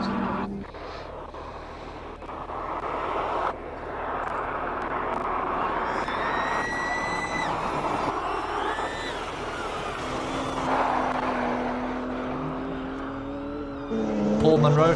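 A BMW race car climbing a hillclimb course roars at a distance in a sustained engine drone, with rising gear-change whines, while a commentator talks over it.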